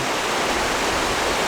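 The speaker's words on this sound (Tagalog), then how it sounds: "Yung napakagandang tunog ng ilog." Rushing water flows steadily nearby, a constant broad hiss with no break and no voices.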